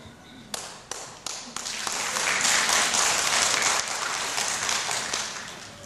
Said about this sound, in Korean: 박수는 많이 치시면 참 건강에 좋습니다.